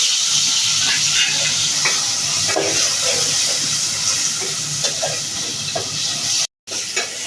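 Ground spice paste tipped into hot oil in a cooking pot for a fish curry, frying with a loud, continuous close sizzle and hiss, occasional stirring scrapes, and a momentary cut near the end.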